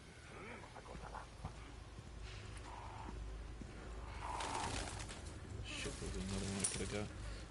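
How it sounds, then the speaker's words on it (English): A crow in the Resident Evil 4 demo game calls a few times, with short mid-pitched cries rising out of a dense bed of ambient in-game noise, footsteps and rustling, at moderate loudness throughout. "That is a fat ass crow."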